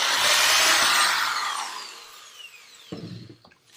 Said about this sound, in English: we're going to take that marked spot and just drill a pilot hole